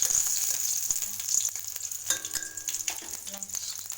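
Green chillies sizzle and crackle in hot oil in a pan, a bright steady frying hiss with a few stirring scrapes partway through; nobody speaks.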